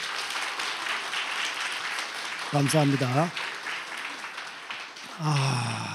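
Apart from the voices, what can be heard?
church congregation applause welcoming new member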